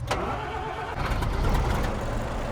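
An Ikarus coach bus in OMSI 2 cranking to life: a short starter whirr, then the engine catches and settles into a steady, close, rumbling idle, with no talk over it.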